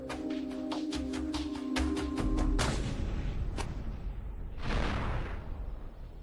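A rifle fires at an artificial head, a single loud, sharp blast after a run of faint clicks, then a fading rumble and a later burst of noise.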